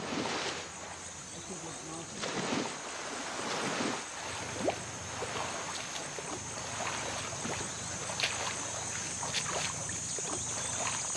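A small boat on a wobbly ride up a mangrove creek off Tahitu village on Kohingo Island: a steady wash of water and engine or paddle noise with an insect-like hiss, holding even and moderately loud throughout.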